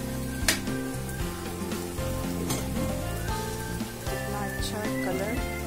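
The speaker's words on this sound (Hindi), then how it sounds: "हल्का सा मीडियम फ्लेम करके और इसको भूनते रहिए" Potato and pea samosa filling sizzles softly as it roasts over a medium flame in a pan, a steady crackle under background music and someone speaking.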